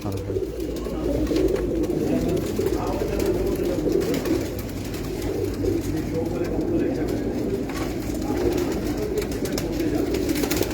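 Pigeons, among them a Cheena pigeon, coo steadily on a rooftop loft, a continuous low burbling layered over a dense, noisy outdoor background for the whole stretch.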